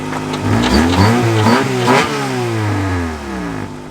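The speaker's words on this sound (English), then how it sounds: "you hit the button. And then it runs. It's push button start, Ryan." A Rolls-Royce limousine engine, started by push button, idles loudly and roughly nearby with a worn muffler, a couple of revs rising and falling over the low throttled rumble.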